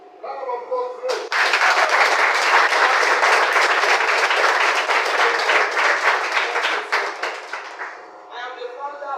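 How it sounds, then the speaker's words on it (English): A burst of audience clapping at a broadcasting practical training event at a polytechnic, starting abruptly after a voice, holding loud and busy with distinct individual claps, then thinning out as speech resumes. "Round of applause, please."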